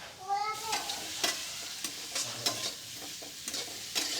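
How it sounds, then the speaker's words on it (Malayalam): Onions are sautéed in oil left from frying prawns, a moderate sizzle punctuated by repeated sharp scrapes and knocks of a stirring spoon against the pan. "ഇതിനകത്തോട്ട് ഇട്ടങ്ങ് നമുക്ക് വഴറ്റിയെടുക്കാം ഉള്ളിയൊക്കെ"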